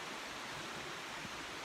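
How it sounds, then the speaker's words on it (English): Little Bear Creek running beside a forest hiking trail, a faint, even rush of flowing water that holds steady throughout, with no talking. "This trail follows right along side of this creek right here."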